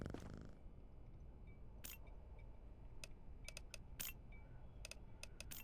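A video game cat purrs as a low, soft rumble, with sharp mouse or key clicks scattered over it and no talking.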